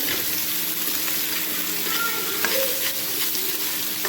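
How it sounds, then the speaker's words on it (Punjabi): Onion and garlic sizzle steadily in hot oil for a potato and paneer bhurji, a dense continuous hiss with light occasional stirring touches, close and even throughout, no talk. "ਚੰਗੀ ਤਰ੍ਹਾਂ ਹਿਲਾ ਲਾਂਗੇ"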